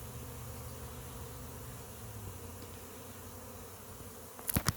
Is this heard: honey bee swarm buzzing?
yes